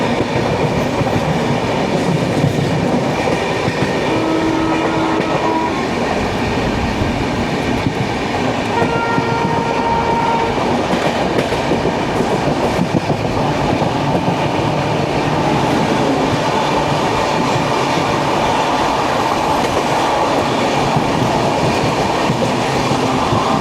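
The Kerala Express running on rails after leaving Faridabad toward Hazrat Nizamuddin, a loud, steady rumble and rattle of wheels and carriages with faint clicks, continuous for the whole stretch.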